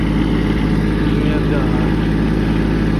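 A Kubota B2601 four-wheel-drive diesel tractor idles steadily close by, a low continuous engine rumble that runs unbroken through the whole stretch.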